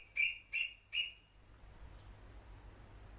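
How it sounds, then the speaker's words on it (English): Three sharp, high chirps from a bird in quick, evenly spaced succession, fairly close, followed by faint background hiss in a workshop setting. "Birds."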